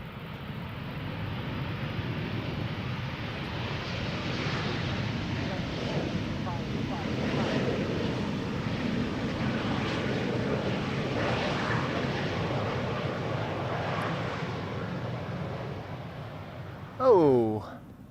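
A KLM airliner arrives at Amsterdam Schiphol Airport, its engines making a broad, steady roar with wind buffeting, and a short louder sound near the end.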